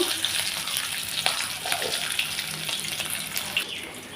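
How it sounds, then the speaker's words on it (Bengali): Black cumin seeds and green chilies tempering in hot oil for an okra dish, giving a steady close crackling sizzle with small sharp pops throughout, no voices. "লঙ্কাটার সঙ্গে আমি কালো জিরা ফোড়নে দিয়ে দিচ্ছি"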